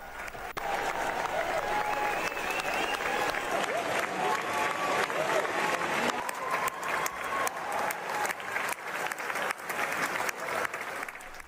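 A theatre audience applauds the actors at the end of a play, sustained clapping from a large crowd that keeps going and turns into sharper, more distinct claps toward the end.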